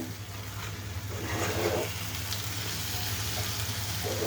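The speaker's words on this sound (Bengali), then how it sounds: "দিয়ে এখন সুন্দর করে নেড়ে দিব মশলাটা যাতে সুন্দর করে মিশে" Ground cumin and coriander fry in a pan for a bottle gourd and hilsa fish head dish, a soft, continuous sizzle with faint scraping swells from stirring, steady and close, with no talk over it.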